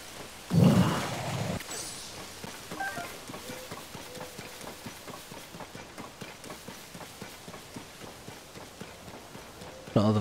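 Hooves beat in a quick, steady rhythm of a galloping horse in the video game Zelda: Tears of the Kingdom, continuing evenly after a loud thump at the start.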